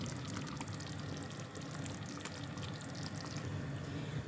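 Water pours steadily into a cooking pot for butter chicken, a dense continuous rush with a faint trickling texture throughout.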